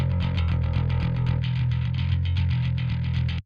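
A distorted bass guitar, shaped by a first stage of EQ, plays a fast, steady run of picked notes with a heavy low end, loud and continuous, with no voices.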